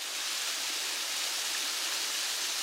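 Waterfall heard from the top of the falls at Savage Gulf, a steady hissing rush of water with an even, continuous texture, moderately close and alone.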